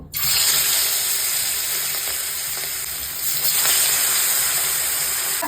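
Katla fish frying in hot oil in a wok, a dense close sizzle that starts abruptly as the fish goes in and holds loud and steady throughout, with no talk.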